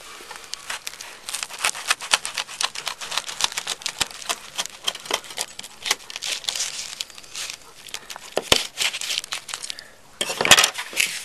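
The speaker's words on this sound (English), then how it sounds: "Let me cut that open and let you take a look at it here." A knife crunches and scrapes through a crispy ham breakfast sandwich toasted in a Rome pie iron, with irregular crackling and clicking close up, ending in a louder cluster of crunches.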